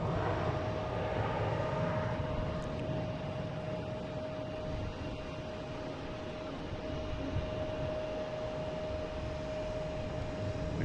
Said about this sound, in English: we got a Porter taking off on 22 right